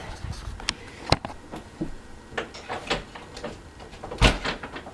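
A locked downstairs door being worked open, with several sharp knocks and rattles over about five seconds, one loud clunk near the end, heard close up without talk.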